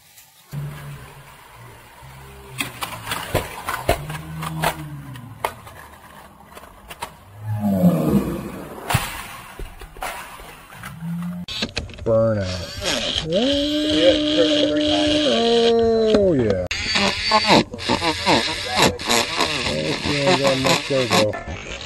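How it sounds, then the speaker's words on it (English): Johnny Lightning Sizzlers toy cars race, including a Camaro. Rising and falling electric motor whines sound in two long stretches among clatter and excited voices. "Oh, you can hear the Camaro."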